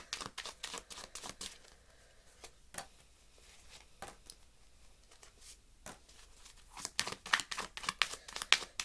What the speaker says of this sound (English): I'll pull out some extra cards.